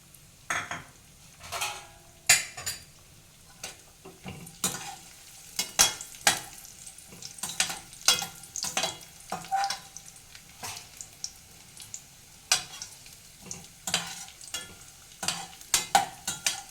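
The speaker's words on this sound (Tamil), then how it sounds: "அதே போல் 10 கிராம் திராட்சை அதையும் நெய்யில் போட்டுடுறேன்." Raisins and broken cashews fry in ghee for rava laddu: a soft sizzle runs under frequent irregular scrapes and clinks of a spoon stirring against the pan, close up and without speech.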